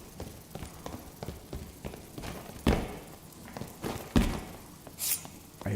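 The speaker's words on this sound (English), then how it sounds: "I hear footsteps close." Footsteps in the video game Dark and Darker, a run of soft, uneven thuds with a few heavier knocks, mid-distance under a low ambient bed with no talking.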